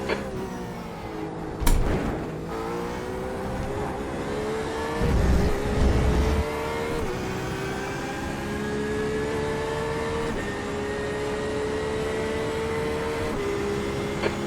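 A Porsche GTE race car engine in the iRacing video game at the Mexico track, droning steadily at high revs with shifting pitch, a couple of brief louder bumps and no talking.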